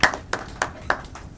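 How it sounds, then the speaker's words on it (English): An audience claps for faculty at the launch of an MSc Development Studies program, with four distinct, spaced claps standing out sharply in a quiet room. "I think we should clap for them with beautiful initiation."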